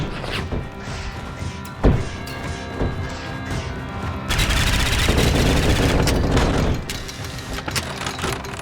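A missile swarm launches in the video game City of Springs: a sharp thud, then a dense, roaring rush of rapid bursts and blasts lasting several seconds before fading into rumbling impacts.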